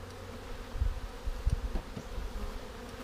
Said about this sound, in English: Let's look at the bees underneath here.